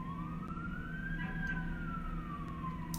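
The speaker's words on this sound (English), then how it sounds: "can you hear that? There's like a fire truck." A fire engine siren wails outside, rising then slowly falling in pitch as it passes at a distance, faint beneath a steady indoor background hum.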